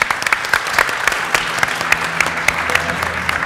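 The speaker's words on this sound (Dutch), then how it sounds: "even een applaus voor hem natuurlijk" Applause from a live audience at a Dutch late-night tech talk show, steady dense clapping with sharp individual claps standing out, continuing evenly throughout at moderate loudness.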